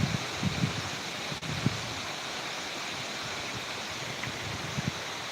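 Typhoon wind tossing the leaves of a vegetable garden with wing bean vines, an even, continuous rushing rustle with a few soft gusty swells and no voices.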